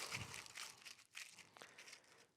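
Aluminum foil being crumpled by hand into a ball, a quiet run of crisp crinkling and crackling bursts spread over a couple of seconds, close up and with no talk.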